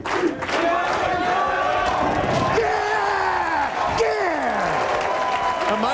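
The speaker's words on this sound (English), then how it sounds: "the crowd plays no favorites as they're chanting Steve" Crowd at a 1997 PBA professional bowling tournament semifinal chants a bowler's name, rhythmic rising and falling voices with cheering and clapping around them, loud and reverberant.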